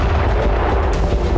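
Russian artillery fire in war footage near Kherson, a loud, close, low booming blast rumbling through a brief moment with a sharp crack near its end.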